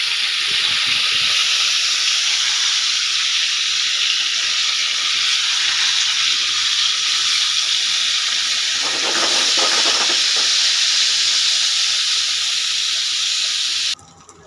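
Shing fish (stinging catfish) pieces fry in hot oil, a loud, steady broadband sizzle that holds evenly for about fourteen seconds, with a brief burst of spattering midway, before cutting off abruptly at the end.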